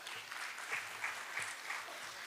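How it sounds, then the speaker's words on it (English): A seminar audience at a Rotary entrepreneurship event claps for a speaker, a fairly quiet, distant patter of scattered hands holding steady across the moment, with a few sharper claps standing out. "Sir, let us clap."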